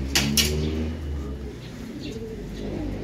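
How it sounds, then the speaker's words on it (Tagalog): A neighbour's pigeon coos softly a few times in a low, rolling call, with a couple of sharp brief sounds near the start and quiet outdoor background throughout. "O ibon na naman ng kapitbahay."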